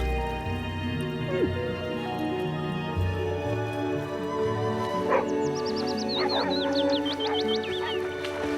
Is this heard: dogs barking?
yes